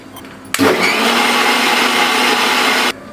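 A mixer grinder switches on abruptly with a thump, whirs loudly and steadily for a few seconds blending curd with coriander leaves, then cuts off.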